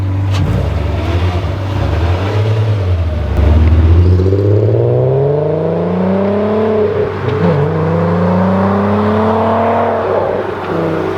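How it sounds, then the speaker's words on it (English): A VR6-engined car, either a 2.8L or a 3.2L, makes a loud, close flyby, its engine note rising and falling through several gear changes as it accelerates past, over the low idle of another car nearby. "The car sounds so good."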